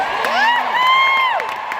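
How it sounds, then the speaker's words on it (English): A large audience in a Dallas arena cheers and whoops loudly and continuously, with high shouted voices rising above the roar of the crowd. "What an incredible crowd."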